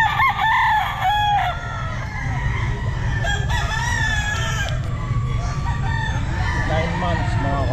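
A bullstag gamecock at an outdoor pet market crows loudly and nearby, with other roosters crowing and clucking in the background and a steady market hum underneath, while people talk.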